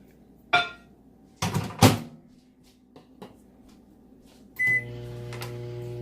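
A microwave oven used to melt hard candy: a few sharp clicks and clunks of the door and buttons, then a short loud beep and the steady hum of the oven starting to run.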